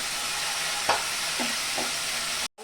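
Spice masala of salt, turmeric, cumin, coriander and chili powder fries with a little water for matar paneer, sizzling steadily and close as a spoon scrapes and stirs the pan in a few separate strokes.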